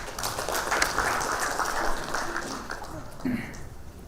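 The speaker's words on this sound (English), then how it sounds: "Let's all welcome him with a round of applause." A gathering at a conference applauds to welcome a speaker with fairly faint, scattered clapping. Voices and other room noise are mixed in, and the applause thins toward the end.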